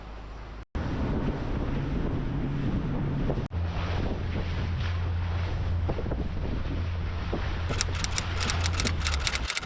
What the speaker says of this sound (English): I told you another boat is arriving.